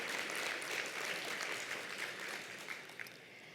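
A crowd applauds steadily in a dense wash of clapping that holds for several seconds, then thins slightly toward the end.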